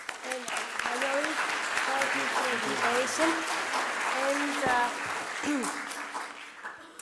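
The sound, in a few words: audience applauding after a presentation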